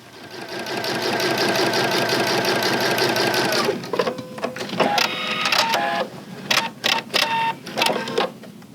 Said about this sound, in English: Follow me to the sewing machine and let me show you how easy this is.